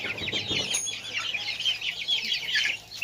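Chickens cluck in a rapid, overlapping chorus close by at a village farm, with a brief flutter of wings, no talk.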